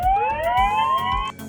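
Electronic siren sound effect in a Code.org App Lab emergency app, a rising wailing tone with harmonics sweeping upward for over a second, loud and alone before cutting off abruptly.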